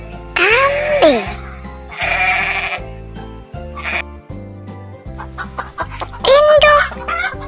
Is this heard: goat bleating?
yes